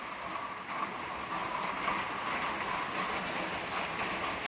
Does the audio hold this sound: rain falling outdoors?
yes